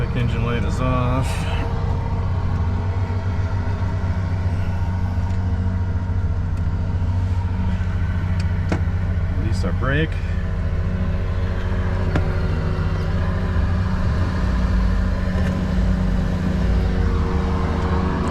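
A 2011 Chevy Tahoe idles steadily close by, a low, even rumble that holds for the whole stretch outdoors in noisy surroundings. Someone speaks briefly over it.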